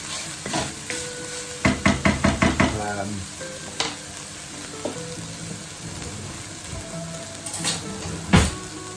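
Bacon fries in a pan for a crustless quiche while being stirred, giving a continuous sizzle broken by a quick run of scraping, clattering stir strokes early on and scattered knocks later.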